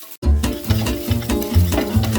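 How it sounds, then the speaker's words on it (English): Ginger and garlic frying in a hot pan for a spicy Asian chicken soup, with a loud, close sizzle and repeated rhythmic scrapes of stirring about every half second. "we're going to stir that in and cook that for about 1 minute to 2 minutes, making sure the garlic doesn't burn"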